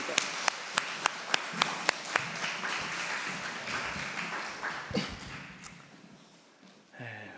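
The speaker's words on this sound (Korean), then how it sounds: "영광의 박수 올려드리겠습니다." Church congregation at an air force base chapel's Sunday service clapping in praise, starting with a few loud, evenly spaced claps before a denser wash of applause that gradually fades, ending with a brief rustle.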